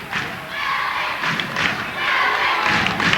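Home crowd roaring at a 1997 Connecticut high school boys basketball game, Lyman Hall fans making a loud, continuous wash of cheering and shouting in a gym, with thuds and surges throughout.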